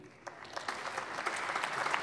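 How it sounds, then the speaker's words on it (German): Audience applause breaks out after a political speech on Europe by the German federal government, a dense wash of clapping that swells and holds steady for about two seconds with no voices over it. "Applaus"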